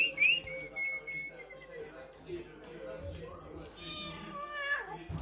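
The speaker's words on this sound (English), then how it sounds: "Cat. Very good." A cat meows over a soft background of light music and whistle-like tones, with a few meow-like cries at the start and again near the end.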